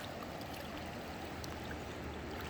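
River water flows steadily past in the outdoors, a constant close rushing and burbling with no voices.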